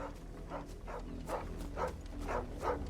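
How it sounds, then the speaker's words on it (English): A dog in Final Fantasy XVI gives a run of evenly spaced barks and whimpers, about five or six calls at a steady rhythm, clear and close over a low game background. "Hey, it's that dog."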